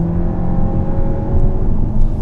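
The engine of a 2019 Volkswagen Arteon pulls hard under acceleration on an open road, a dense steady roar with a rising tone heard from inside the cabin, nobody speaking.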